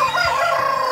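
A naked neck rooster crows with a short, clear call, moderately close, against quiet farmyard background.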